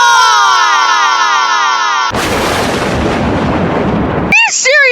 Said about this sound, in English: 2 explosions in a row?